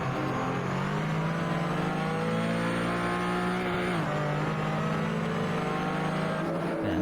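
Porsche 935/K3 race car braking hard into turns 10A and 10B at Road Atlanta, a loud close engine note that drops in pitch as it slows, with a sharp downshift blip near the middle and continuous roar throughout.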